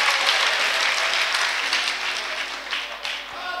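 A church congregation claps hands loudly during a sermon, a dense, continuous burst of applause that stays strong and eases slightly toward the end.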